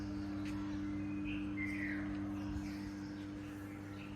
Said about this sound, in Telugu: పక్షుల అరుపులు వినిపిస్తున్నాయండి మీకు